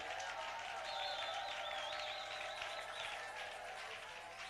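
Steady, dense applause and cheering from a church congregation praising Jesus, sustained at even loudness throughout, with a singing or shouting voice weaving above the clapping.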